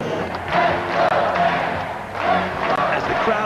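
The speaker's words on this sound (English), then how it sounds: "Crowd started getting into it." A large crowd of over 17,000 fans in a hockey arena at Nassau Coliseum cheers and roars in loud, swelling waves that rise and fall.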